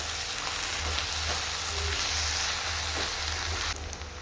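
Onions sizzle steadily in hot oil with turmeric and ginger-garlic paste, a dense, even hiss from start to finish for an egg curry, with a slight drop near the end.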